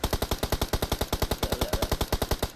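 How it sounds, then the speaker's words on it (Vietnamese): Rapid automatic gunfire rattles from inside a house in PUBG Mobile, a steady burst of about twenty loud, evenly spaced shots with no talk over it. "Ô, tiếng súng này, trong khu nhà luôn."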